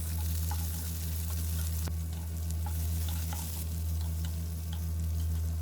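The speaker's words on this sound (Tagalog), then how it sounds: "Ngayon ay maggisa naman tayo ng bawang. Pagkatapos, ilagay naman natin ang sibuyas." Garlic and onion sauté in a hot pan for pancit canton, giving a steady close sizzle with occasional stirring clicks and a low constant hum underneath, no talking.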